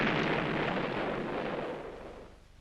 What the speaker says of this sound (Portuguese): um dos marcianos aparece para acabar com ele e dispara esse laser